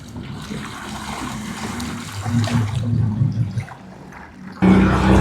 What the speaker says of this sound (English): Comes the rescue boat.